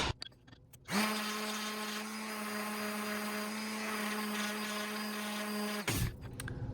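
A power sander whines steadily on a wooden trivet for about five seconds, a loud sustained mechanical drone that cuts in abruptly and stops just as sharply.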